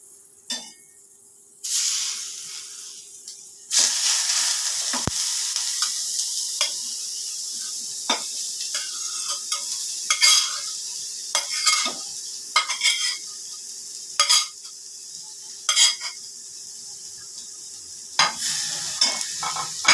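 Beetroot sizzles in hot oil with black cumin and a dried chilli, a steady frying hiss broken by repeated scraping stirs and clinks of a spatula against the pan.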